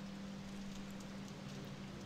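Rain falls in the horror video game Fatal Frame: Maiden of Black Water, a steady, even wash of downpour with no breaks, moderately loud, with a faint low hum underneath.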